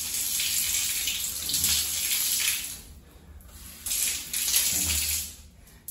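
Water sprays steadily from a shower, hissing in two bursts with a brief quieter dip between them, close by.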